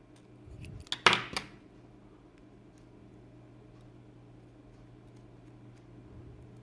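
Scissors snip through masking tape during assembly of an Aoshima 1/24 Pagani Huayra model kit, a quick pair of crisp close cuts near the start followed by a quiet low room hum.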